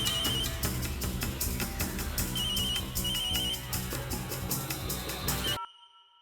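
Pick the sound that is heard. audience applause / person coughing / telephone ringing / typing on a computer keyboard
telephone ringing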